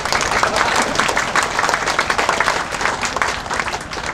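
An audience applauds at an anniversary ceremony for Malinau, dense continuous clapping from a large crowd that is loud and steady for several seconds, without speech over it.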